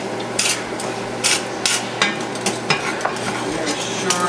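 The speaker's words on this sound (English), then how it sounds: "Saute, don't burn." Food sautéing in a hot pan, a continuous sizzle broken by repeated scraping stirs at a quick, uneven rhythm, close and fairly loud with no talking.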